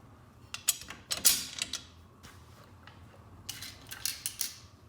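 Stainless steel bolts slid into the holes of a metal rail brace, giving sharp metallic clicks and scraping clinks in irregular bursts, close and fairly crisp.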